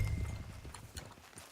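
A horse in the video game Red Dead Online trots along, its hooves clip-clopping in a quick, even rhythm, close and fairly quiet, with no talk.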